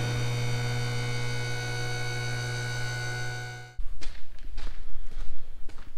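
A farm planter machine with new upgrades, heard as a loud steady electric hum for nearly four seconds that cuts out abruptly, followed by quieter clunks and footstep-like knocks.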